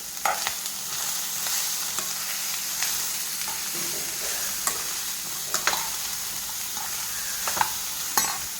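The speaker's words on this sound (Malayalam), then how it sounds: "അപ്പം കടുക് പൊട്ടി നമുക്ക് പാവയ്ക്ക ഇട്ട് കൊടുക്കാം" Bitter gourd sizzles loudly in a hot pan of popped mustard seeds, with a steady frying hiss and regular sharp scrapes of a spoon stirring it, close by and without talk.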